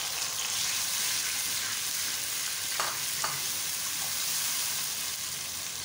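Onion paste sizzles and fries steadily in a hot pan as the base for mutton chops in yogurt, a constant close hiss with a couple of brief clinks of a stirring utensil partway through.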